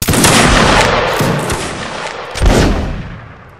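A massed musket volley rings out in Mount & Blade Napoleonic Wars, a loud crackling burst of many shots with rolling reports, then a second ragged wave of fire before the din dies away.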